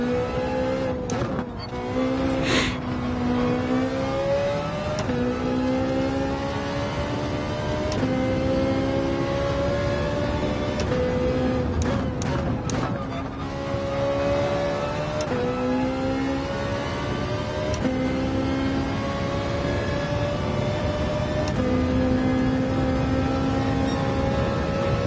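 GT3 race car in Gran Turismo 7 revving high, engine tone climbing and dropping through repeated gear changes with sharp shift blips, loud and continuous throughout with faint tyre squeal.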